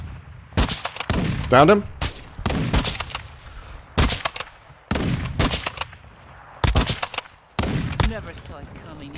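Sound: gunfire in Call of Duty video game

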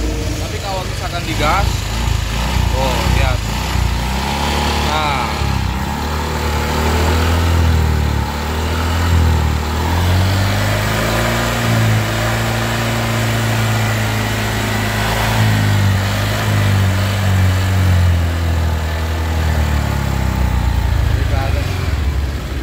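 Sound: motorcycle engine idling, leaking head gasket check

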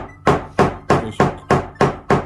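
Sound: nylon mallet pounding a leather seam on an anvil

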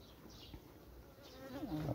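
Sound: honey bees buzzing at hive

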